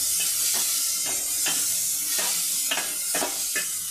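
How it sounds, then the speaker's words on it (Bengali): Red lentils fry with onions in a pan, a constant close hiss of sizzling broken by regular scraping strokes of a spatula stirring every half second or so. "মসুর ডালটা দিয়ে ভালো করে কষে নেব।"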